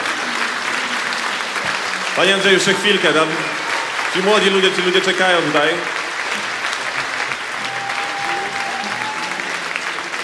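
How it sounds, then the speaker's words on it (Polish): Audience applause at a meeting with Andrzej Wajda at an art academy during the 2010 Przystanek Woodstock festival, a steady crowd clapping that swells in two louder bursts while someone speaks over it. "Wielkie brawa."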